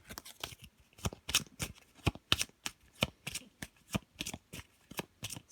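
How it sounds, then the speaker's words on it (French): Small Mary Hanson Roberts tarot cards, major arcana, are riffle-shuffled in quick, crisp, evenly spaced flicks about two or three per second, close and fairly quiet with no talk. "nous allons voir avec le petit tarot de Mary Hanson Roberts, donc les majeurs"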